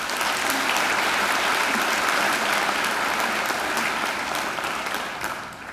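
Sustained audience applause at an MQ university graduation ceremony after an occasional address, a broad, even roar of many hands clapping that tapers off gently at the end.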